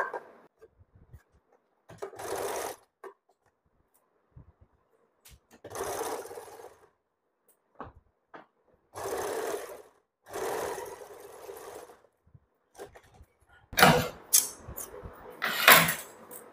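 A sewing machine stitches a princess cut on a frock in short bursts of whirring, separated by pauses, ending with louder, quicker runs.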